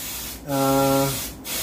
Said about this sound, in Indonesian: Jadi cukup kita semprotkan supaya terjaga